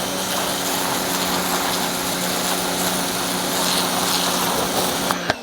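A Suyncll 2300 PSI, 1800 W electric pressure washer runs steadily, its motor humming and pump whining beneath a broad hiss of water spray that holds at a constant level throughout, ending with a brief click.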